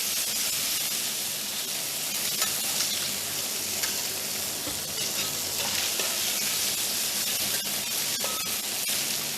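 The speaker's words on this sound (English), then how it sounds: "when you pan fry the fish, maybe you need more oil a little bit, prevent they stick on the pan" Fish pan-frying in oil sizzles steadily and loudly throughout, with scattered crackles and the scrape of a spatula, no talking heard.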